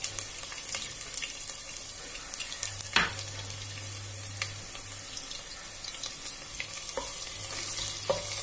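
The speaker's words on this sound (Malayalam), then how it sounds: "വെളിച്ചെണ്ണ ചൂടായ ശേഷം ആവശ്യത്തിന് കടുക് ചേർക്കാം. കടുക് പൊട്ടിയ ശേഷം അതിലേക്ക് ഇഞ്ചിയും വെളുത്തുള്ളി ചതച്ചതും ചേർത്ത്" Ginger and crushed garlic fry in hot coconut oil with popped mustard seeds, giving a steady close crackle dotted with sharp pops and an occasional louder spatter, with no talking.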